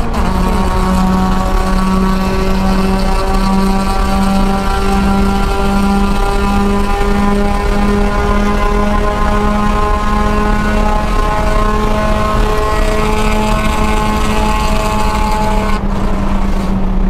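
Inside a Spec Miata race car at Daytona, the engine drones loud and constant under wind and road noise, its pitch slowly rising and shifting as the car accelerates through the gears.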